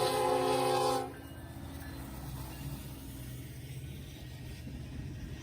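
Norfolk Southern NS 4000 leads train 229 and gives a harsh, loud horn blast for about a second, followed by the steady rumble of the passing train with no talk.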